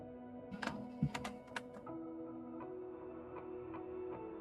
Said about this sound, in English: So for file name, just start typing out the FLT file that you saved.